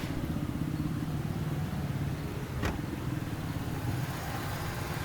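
A car engine idles steadily at about 1000 RPM on a cold start in neutral, with its accessory belts whirring; a low, continuous mechanical hum that stays even throughout, with one brief sharp tick midway.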